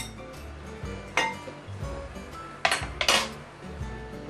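A metal kitchen sieve is picked up and set down for straining beaten egg, giving a few sharp clinks and taps with quiet handling noise between them, close by and with no one talking.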